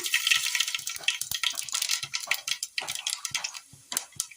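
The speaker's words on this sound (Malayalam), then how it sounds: "എണ്ണ നല്ലപോലെ ചൂടായി ചൂടായി വരുമ്പോൾ കടുകിട്ട് കൊടുക്കാം" Mustard seeds spluttering in hot oil in a pan, a faint, rapid scatter of sharp irregular pops and crackles with no voices.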